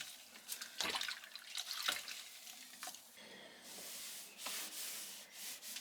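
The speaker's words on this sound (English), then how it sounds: "he is just wiping over and making sure that everything is properly degreased" A narrowboat deck is wiped over to degrease it before deck painting, with quiet scrubbing and rubbing strokes, a few sharper scrapes and soft wet swishes in a rough rhythm, close by but faint.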